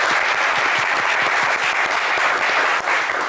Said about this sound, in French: on va vous applaudir, beau parcours également